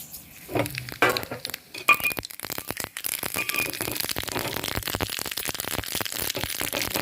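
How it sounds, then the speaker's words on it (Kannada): Mustard seeds, curry leaves and dried chillies crackling in hot ghee for a tempering, a dense run of sharp close pops and spits that builds and keeps going steadily, with no talking. "ಒಂದು ಸ್ವಲ್ಪ ಸಾಸಿವೆ, ಕರಿಬೇವು, ಒಣಮೆಣಸಿನ್ಕಾಯಿ ಒಗ್ಗರಣೆ ಹಾಕಬೇಕು."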